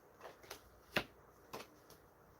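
Tarot cards being shuffled by hand, a few separate quick riffling bursts spaced about half a second apart, close and fairly quiet, with no talking.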